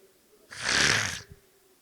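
A man imitates a single loud, rasping snore lasting under a second, with breathy noise at its edges and no other sound around it.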